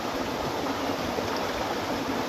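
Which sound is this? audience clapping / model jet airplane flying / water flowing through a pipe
water flowing through a pipe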